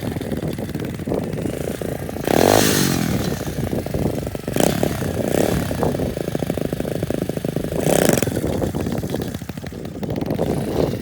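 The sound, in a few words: SSR pit bike engine during wheelie attempt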